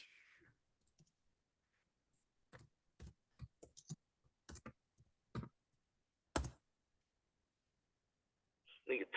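Sparse clicks of typing on a computer keyboard come in short irregular bursts with quiet gaps between, close and crisp, and a voice briefly at the start and end.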